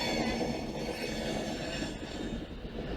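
A Class 150 Sprinter diesel train arriving at Manchester Piccadilly station, a steady low rumble with rolling wheel noise and faint squeal, fairly quiet and distant, with no voices.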